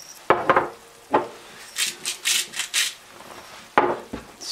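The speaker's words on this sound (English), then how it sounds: "Stir that up." Mushroom caps in Marsala sauce stirred in a pan with a utensil as the sauce simmers and reduces, giving several close scraping strokes, some sharp and some softer, with a light sizzle underneath and no talk.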